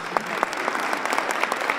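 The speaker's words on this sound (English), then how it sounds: "Let's give him another round of applause." A brief round of applause at a luncheon awards ceremony, a room of people clapping with distinct individual claps standing out, fairly close and moderate in level.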